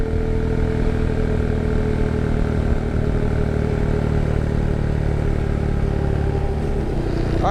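A Honda Monkey motorcycle rides back into town, its small engine droning steadily and loudly up close with constant wind rumble and no pause throughout.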